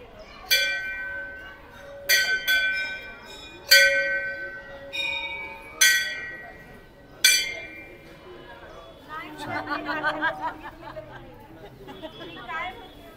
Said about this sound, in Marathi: समोर आता घंटानाद होतोय.